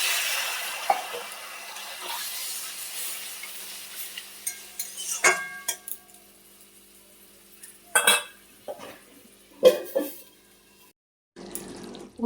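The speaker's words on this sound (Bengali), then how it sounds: "কষা হয়ে গেছে, এবার জল দিয়ে দিচ্ছি।" Water poured into a pan of bitter gourd curry, a hissing splash that fades, followed by intermittent stirring scrapes and clanks against the pan.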